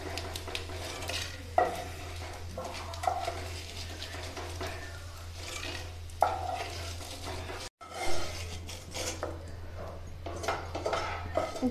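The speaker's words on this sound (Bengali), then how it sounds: "এইভাবে সমস্ত কটাকে আমি ভেজে ছেঁকে তুলে নিচ্ছি" Gond, the edible gum, fries in ghee in a pan with a soft steady sizzle, under repeated scrapes and clinks of a ladle stirring and lifting the pieces out.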